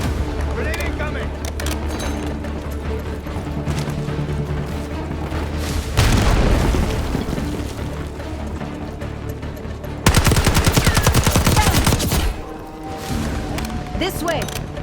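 Grenade blast and heavy gunfire in the Call of Duty: Black Ops 6 campaign, with sustained machine-gun bursts, a sharp boom near six seconds and a dense, loud volley of shots near ten seconds, under shouted voices.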